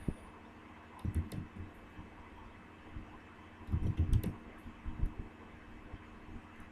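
Computer keyboard typing in short clustered bursts of soft clicks, fairly close but quiet, with pauses between flurries over a faint steady background hiss.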